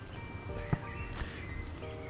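Horse hooves clip-clopping at a quick riding pace in the Star Stable Online game, soft rhythmic thuds under a steady background of game music and ambience.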